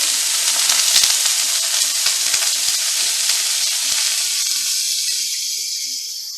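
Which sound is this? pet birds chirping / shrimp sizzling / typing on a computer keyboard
shrimp sizzling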